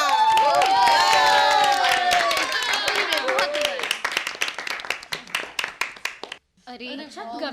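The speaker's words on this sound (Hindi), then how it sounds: "जोरदार तालियां।" After a Hindi radio drama performance, an audience claps while a voice speaks over it. The clapping thins into scattered separate claps, then stops, and voices carry on alone.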